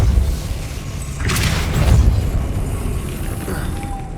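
A Depulso force spell cast in Hogwarts Legacy lands as a single muffled boom with a burst of rushing noise, followed by low rumbling ambience that slowly fades.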